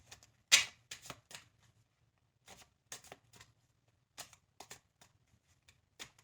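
A deck of cartomancy cards being shuffled by hand, with short riffling and slapping bursts separated by quiet gaps, close and fairly soft.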